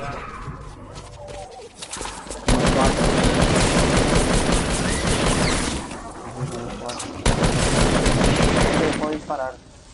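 Video game gunfire in rapid bursts of automatic fire, loud and dense, breaking off and resuming, with players talking over it.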